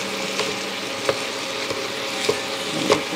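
Meat fries in a pan with a steady sizzle while a meat breaker scrapes and chops through it, producing a few distinct clicks and scrapes against the pan at regular intervals.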